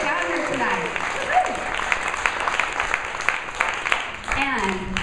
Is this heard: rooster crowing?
no